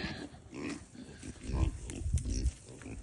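Pigs grunt and snort steadily as they are moved out to pasture for the first time in the year, close and fairly loud, with a person's voice calling to them.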